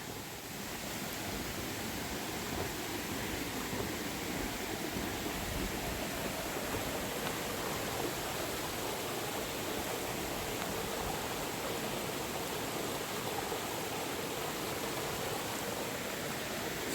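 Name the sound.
waterfall on Devils Path hike, Catskills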